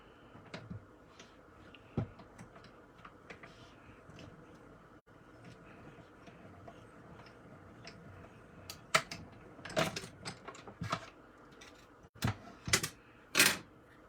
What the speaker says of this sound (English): let me cut that one really quick